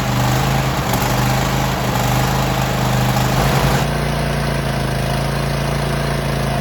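A Kohler 7000 Series lawnmower engine runs loudly and continuously up close, its idle uneven and sputtering with a rough, surging hum from a dirty or failing carburetor.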